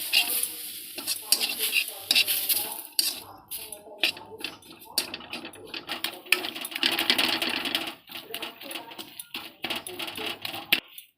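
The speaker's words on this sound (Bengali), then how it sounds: "আমি এটাকে ভালো করে নাড়াবো আমাকে ওই জলটার মধ্যে দিয়ে সুজিটাকে করতে হবে" Semolina stirred into water in a pot with a metal spoon, producing repeated close scraping and clattering strokes, with a soft sizzle beneath and brief pauses between bursts of stirring.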